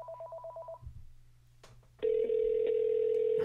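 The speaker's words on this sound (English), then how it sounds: "got all kinds of phones that ring in here" Telephone ringing in a radio studio: a pulsed ring repeats briefly, then a click and a steady, loud tone takes over and holds to the end.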